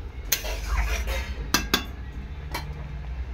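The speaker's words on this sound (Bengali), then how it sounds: "দিয়ে ভালো করে এরকম নাড়াচাড়া করে নেবো।" A spoon stirs green chillies into masoor dal with ash gourd in a metal pot, giving a few sharp, close clinks against the pot over a steady low background rumble.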